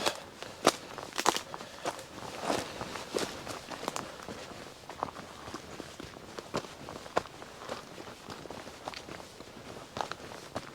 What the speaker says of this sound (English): We basically climb this hillside for 5 minutes